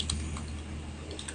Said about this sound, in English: Now it's important that you type exactly what I'm typing.